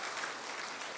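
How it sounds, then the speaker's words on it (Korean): Soft, even applause from a congregation during a Sunday church service in New Jersey welcomes visitors; the clapping is faint and continuous throughout, with no voices standing out. "박수로 한번 환영하시겠습니다"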